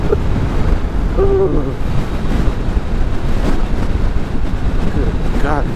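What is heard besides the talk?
wind noise while riding a Kawasaki Vulcan S motorcycle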